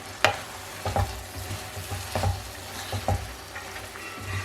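Chopped green chillies fry in a pan with lentils, a low sizzle punctuated by several sharp stirring knocks and scrapes at uneven intervals, close by and with no voices.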